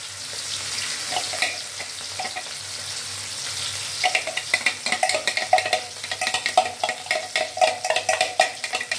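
Petai beans frying briefly in a few spoonfuls of hot cooking oil for sambal, a steady sizzle that turns into sharp, rhythmic stirring scrapes and crackles partway through.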